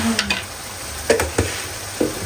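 Spices are stir-fried in a pan, with a few sharp spatula scrapes and taps against the metal over a faint sizzle. Between strokes there are quiet gaps.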